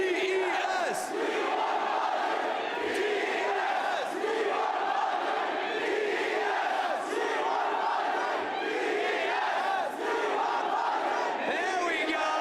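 Large crowd loudly chanting a team name in unison during a gaming livestream, voices sustained and roaring together, a continuous crowd chorus throughout.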